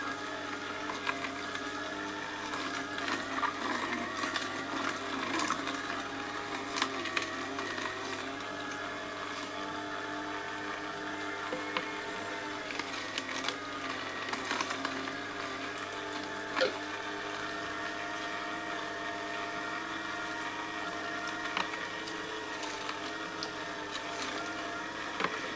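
A juicer presses beetroot, carrot and cucumber with a continuous motor whir, overlaid by irregular grinding and crunching surges as produce is pushed through, moderately loud and unbroken for the whole stretch.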